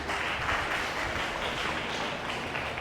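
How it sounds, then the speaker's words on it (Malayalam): An audience at a Malayalam Christian growth retreat in Paraur claps in thanks: dense, steady applause filling the whole stretch, loud and continuous with no pauses. "കൈയടിച്ച് നന്ദി പറയും"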